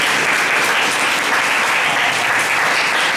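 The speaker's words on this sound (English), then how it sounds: "So one cheer for our team" A team at a seminar cheers and claps together, steady dense applause filling the whole moment at close range with no pauses.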